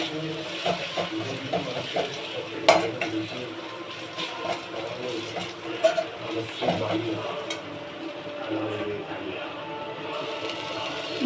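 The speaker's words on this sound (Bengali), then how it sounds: "এবার একটু নাড়া দিয়ে তারপর মোচাটা দিয়ে দেবো।" A spoon stirs turmeric powder through cooking in a frying pan, producing scraping and clattering strokes in an irregular rhythm over a faint sizzle.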